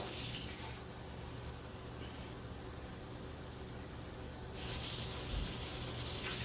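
Tap water pours steadily into a stovetop pot holding corned beef brisket, a close, even hiss that runs for several seconds before fading into quieter kitchen noise.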